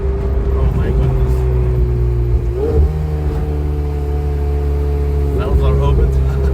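Ferrari F80 running with its exhaust valves open, a steady loud engine drone with a strong low hum that swells near the middle and again toward the end, while voices talk over it.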